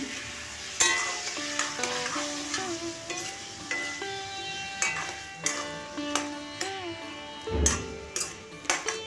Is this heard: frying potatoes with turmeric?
yes